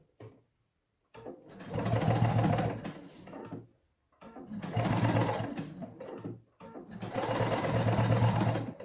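A sewing machine stitches fabric in three sustained whirring bursts separated by short silent pauses, loud and close.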